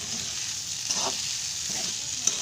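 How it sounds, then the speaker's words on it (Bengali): Pasta tossed with spices sizzles steadily in a hot pan, a continuous close frying hiss with a couple of soft stirring scrapes and no talk. "একটু লাল লাল করে ভেজে নিই।"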